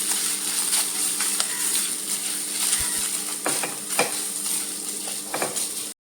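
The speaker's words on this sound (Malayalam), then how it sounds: "ഇത് തീ കുറച്ച് വെച്ച് കരിയാപ്പില ഇട്ട് തീ കുറച്ച് വെച്ച് ഒന്ന് വറുത്തെടുക്കാം" Grated coconut with cashews and curry leaves roasting in a pan on a low flame, a steady soft sizzle broken by the scrape and clink of a stirring spoon, close by with no voices.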